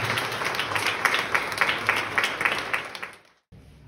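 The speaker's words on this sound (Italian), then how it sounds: "quindi un applauso" Steady clapping from a modest audience at a contemporary art exhibition in a small town, moderately loud and continuous, briefly cutting to silence near the end before faint sound returns.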